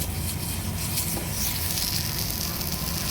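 Oil sizzling steadily as it is spread across a hot dosa pan, a continuous close hiss with no breaks and no voices.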